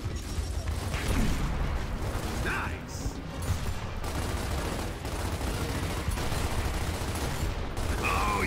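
A grenade goes off during a Gears of War firefight, heard within a dense, continuous roar of gunfire and battle noise that stays loud and steady throughout, with brief higher bursts cutting through the din.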